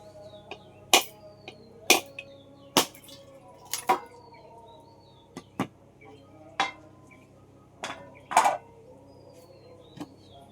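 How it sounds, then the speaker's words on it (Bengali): Sharp, separate clinks and knocks of a knife and utensils cutting and scraping coconut in a home kitchen, about a dozen crisp impacts at irregular intervals over a quiet background. "আমি এবার নারকেলটা কেটে নেবো কেটে আর কুড়িয়ে নেবো"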